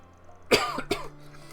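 A character in the video game Trails Through Daybreak gives two short, close coughs as a signal, the first stronger, then quiet.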